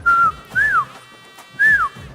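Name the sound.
voice imitating a whistle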